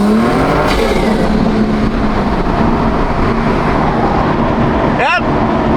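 A turbocharged Toyota Supra engine accelerates hard in fifth gear, a loud, steady, rising drone heard from inside the car, with a brief whistling chirp near the end.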